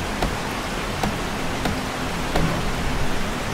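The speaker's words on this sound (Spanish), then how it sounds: "La lluvia sigue fuerte" Heavy rain in the survival video game 7 Days to Die makes a steady, dense hiss throughout, broken by a few faint soft taps.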